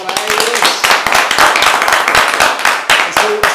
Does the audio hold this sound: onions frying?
no